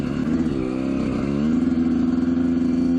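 A Yamaha YZ125 two-stroke dirt bike engine revs hard and climbs in pitch, then holds a loud, buzzing, steady high-rev drone close by with no talking.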